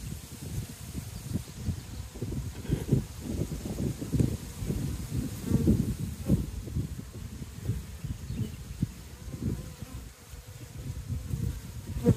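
A dense swarm of honeybees from a swarming hive buzzes steadily and close by, a continuous low droning hum with no voices.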